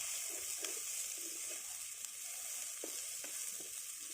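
Ridge gourd peel frying in a pan for an Ayurvedic chutney, a constant soft sizzle with occasional scraping stirs and small clicks, close and fairly quiet, no voices.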